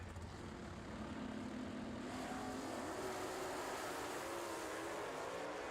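A drag racing car with a 403 small block engine launches at an IHRA event, a loud sustained engine roar with rising pitch that fills the whole stretch, no talk over it.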